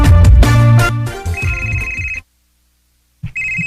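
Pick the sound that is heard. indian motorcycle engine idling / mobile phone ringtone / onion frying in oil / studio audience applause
mobile phone ringtone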